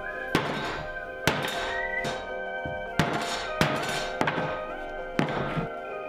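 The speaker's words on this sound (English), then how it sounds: "now I'm just gonna beat up this board a little bit" Repeated hard thunks of a hammer beating a wooden board to distress it, about seven heavy blows at uneven intervals, close and loud with a faint ringing between hits.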